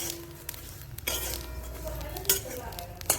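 Nagkesar flowers are dry roasted in a pan, soft scraping and stirring with light metallic clinks of a spatula against the pan, faint crackle beneath, no speech.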